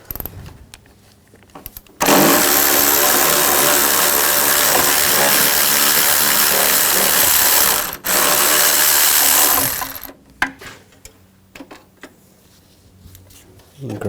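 A power tool spins a 12mm socket to remove a bolt on a 2004-2009 Toyota Prius during an inverter water pump replacement, running in a loud steady whir for about eight seconds, then a brief pause and a shorter burst.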